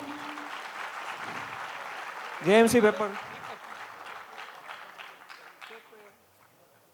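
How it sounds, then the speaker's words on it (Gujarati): An audience applauds to welcome a guest at a motivational speech event with Padmashri Savjibhai Dholakia, a steady patter of clapping from a crowd that fades away toward the end while a voice speaks briefly over it. "તાળીઓથી વધાવીશું."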